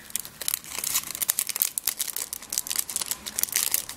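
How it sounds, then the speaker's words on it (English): A small plastic freebie bag crinkles and rustles as it is handled and pulled open, a quiet, irregular series of close, sharp crackles with no talking. "I'm so terrible at getting things out of these tiny freebie plastic bags"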